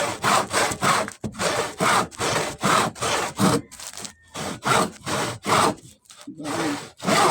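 A hand saw cuts through hard wood for a doormat frame in steady back-and-forth strokes, each rasping pass loud and close, with brief pauses between bursts.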